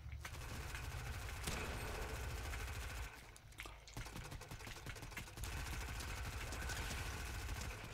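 Continuous rapid automatic gunfire in the video game Fortnite, a steady mechanical rattle that briefly dips midway before resuming at full pace.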